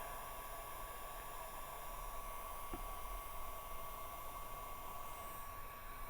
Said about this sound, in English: turn the heat gun on and let it sit there and heat